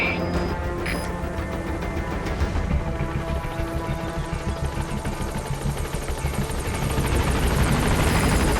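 Helicopter in Metal Gear Solid V: The Phantom Pain arriving to land, a steady loud rotor thump and turbine whine building slightly as it approaches, with no one speaking.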